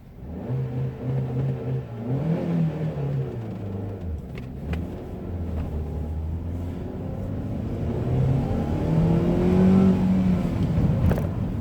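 A Hyundai i20 engine revs repeatedly on a village road, rising and falling in pitch with a growling, whirring tone, building louder toward the end.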